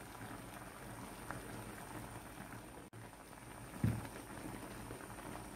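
Quiet, steady bubbling and fizzing of water and brine simmering over pork fat in a pan, with a soft thump near the middle and no voices.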